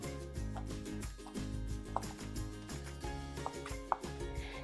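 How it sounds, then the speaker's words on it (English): A knife slices turkey sausage into little rounds on a board, giving a rhythmic series of soft chopping thuds with occasional sharper clicks, close and steady. "I'm just gonna slice up the turkey sausage just in little rounds"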